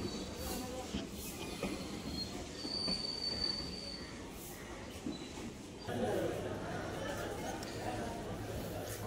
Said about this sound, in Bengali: আইসিএ রেকের 12 কোচের ট্রেন।